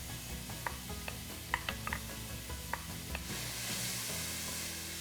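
Onions go into a hot cooking pot with yellow split peas. A few light utensil clinks and taps come first, then a soft, steady sizzle rises and holds close by.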